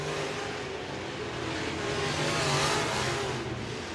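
Race cars on a track during heat racing, a loud continuous engine roar that swells and revs as cars pass close by.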